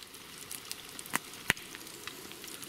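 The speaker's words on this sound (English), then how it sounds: "we've got some roasties going on there. Goose fat, more like deep fried" Roast potatoes and chicken frying in a whole jar of goose fat over a campfire on Dartmoor, giving a steady close sizzle with a couple of sharper pops.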